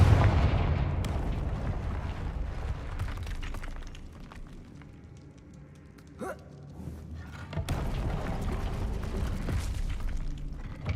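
Explosive Confringo fire spells in the video game Hogwarts Legacy go off as heavy booming blasts and crashes, loud at the start, easing in the middle, then rumbling strongly again amid combat noise.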